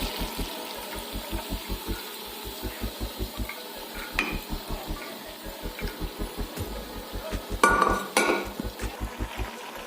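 A cooking pot of sautéed potatoes rattles on a gas stove during stirring: a steady run of dull rhythmic knocks with louder metallic clatters and scraping now and then, close by and without speech.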